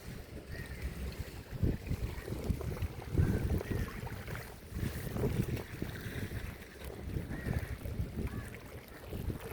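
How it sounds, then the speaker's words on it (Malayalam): A jangar, a flat vehicle ferry, crossing water in central Ernakulam, with a steady low engine rumble and wind buffeting the microphone throughout, no voices. "ജങ്കാറാണ് പോകുന്നത്."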